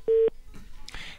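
A telephone keypad dial tone during a call to a radio show: one short, clear, loud beep, followed by faint clicks and brief noise.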